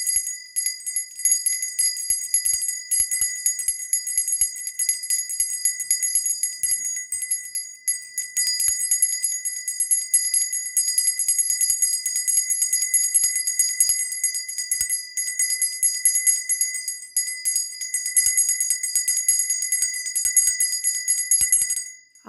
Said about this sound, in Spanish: el sonido de la campana